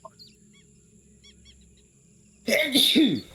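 A single sneeze bursts out near the end after a quiet stretch of faint background tones, loud and close, during an online tabletop game session.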